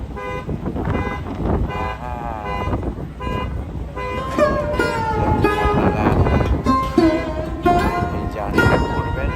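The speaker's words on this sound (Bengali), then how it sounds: "দেখো ওর গাড়ির হর্ন বাজতেছে" A car horn honks repeatedly near a Lewes to Cape May ferry, loud, sustained blasts in uneven bursts over steady vehicle and wind noise, with voices talking at times.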